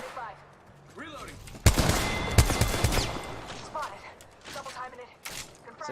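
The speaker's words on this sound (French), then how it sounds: "Ça tire, mais je sais pas d'où." Gunfire in a shooter video game: a dense cluster of sharp, loud shots and bursts, then scattered further reports, mixed with game voice lines and someone talking.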